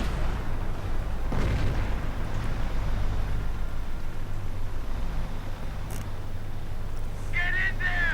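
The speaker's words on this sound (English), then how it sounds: "now artillery being called in" Video game artillery fire booms and rumbles loudly in a dense battle soundscape, with a continuous low roar and scattered distant blasts.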